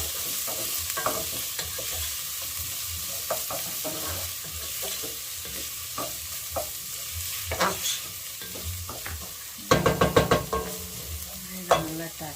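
Onions frying in a pan for a lentil bolognese, a steady sizzle under repeated scraping stirs, with a burst of louder utensil clatter near the end; no talking.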